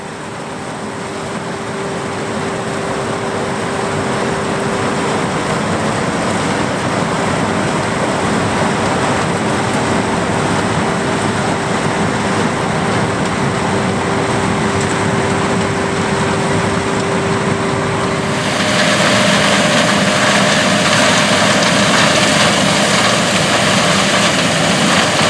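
A 110 PTO horsepower John Deere 4240 tractor engine, built 1978 to 1982, runs steadily during a 1970s corn harvest and plowing, a constant heavy drone with a steady hum that shifts slightly in tone near the end, no talk.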